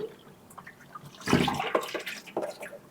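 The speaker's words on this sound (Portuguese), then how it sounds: "colocar aqui embaixo da água corrente para a gente remover esse produto que fica no material" Nail clippers and drill bits are rinsed under running tap water in a sink, an irregular faint splashing and gurgling that swells into a louder burst of splashing midway, with no talking.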